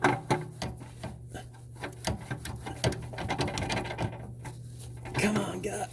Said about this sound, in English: now get in there quickly with your ratchet